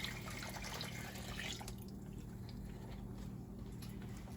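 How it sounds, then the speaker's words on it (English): Warm milk pours into a cooking flour and butter roux for baked macaroni and cheese, a soft steady liquid stream with sizzle and kitchen hum, easing off partway through. "we're going to pour our warm milk into the flour and butter mixture"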